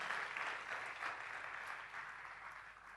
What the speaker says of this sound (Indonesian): Tepuk tangan sekali lagi buat Tuhan Yesus.